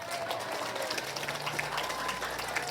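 Applause from a crowd gathered at an Islamic religious lecture, a steady wash of clapping that holds evenly throughout at moderate distance.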